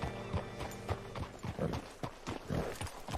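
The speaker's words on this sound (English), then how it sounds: "Hitch your horse up here." Horse hooves clop steadily in the video game Red Dead Redemption II, a rhythmic sequence of soft thuds at close range, with a faint whinny and no talk.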